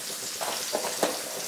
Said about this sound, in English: Here it started to sizzle now nicely.